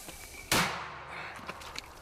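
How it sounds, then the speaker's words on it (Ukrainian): A single sharp gunshot cracks out loud and close, its boom trailing off into a fading echo, followed by a couple of faint distant pops. "Постріл."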